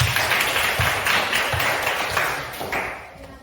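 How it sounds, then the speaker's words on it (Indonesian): Students in a classroom clap together for their classmates after a group presentation in a maths lesson. The steady, dense applause lasts throughout and fades slightly toward the end. "Tepuk tangan untuk mereka semua."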